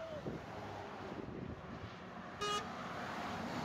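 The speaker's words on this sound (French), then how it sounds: "Allez, les derniers klaxons pour le partie bonus." A scooter horn beeps in a video game, a short bright honk near the end over steady engine and wind noise, with quiet talking in the background.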